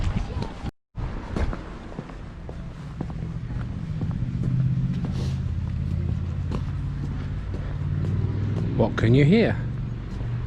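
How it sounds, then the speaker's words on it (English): A car passes on a wet road during an outdoor walk, a steady low rumble and tyre hiss under a voice, with speech and a brief voice toward the end. "Another car on the wet road."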